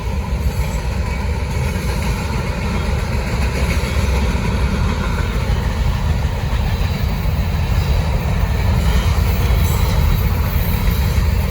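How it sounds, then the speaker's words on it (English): A fast Norfolk Southern freight train led by locomotive 3626 rushes past close by, a loud, steady roar of engine rumble and rolling wagons that holds for the whole stretch without a break. "Finally a fast train for once."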